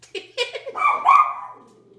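A pet dog barks indoors, several quick yips followed by a longer whining bark, fairly close and fading into quiet.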